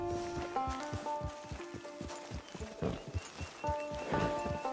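A horse in Red Dead Online plods along with regular clip-clop hoofbeats in a steady walking rhythm, close and clear over a soft sustained musical score, with no one talking.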